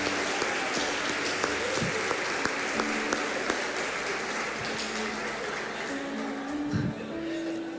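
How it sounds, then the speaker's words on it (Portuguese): A congregation at a church service applauds steadily for Jesus, a dense wash of clapping with some voices and a few sharper claps mixed in throughout. "Aí você dá um aplauso para Jesus assim."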